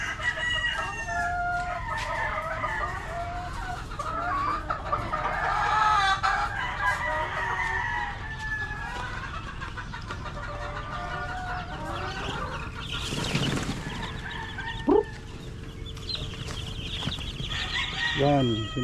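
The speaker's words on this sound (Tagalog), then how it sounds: "Tingnan natin yung sisiw dito" Chickens and chicks in a heated barn breeding pen: roosters crow, hens cluck and chicks peep in a busy, overlapping chorus at moderate distance, with a few brief knocks and muffled voices in the background.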